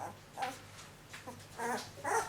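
Newborn Bully Kutta puppies, twelve days old, give several soft whimpers and yips in short bursts, close and fairly quiet, with no talking over them.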